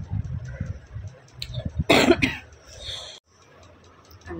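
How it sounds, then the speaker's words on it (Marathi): Several harsh coughs from one person indoors, a cluster of bursts in the middle with quieter sounds before and a short silence after. "सॉरी, खोकला आलेला"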